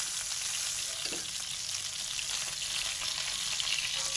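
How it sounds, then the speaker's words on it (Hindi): Fish frying golden in oil, a steady, continuous sizzle with a soft crackling texture that holds close and even throughout, no voices present. "हमारी मछली दूसरी तरफ से भी गोल्डन फ्राई हो गई है"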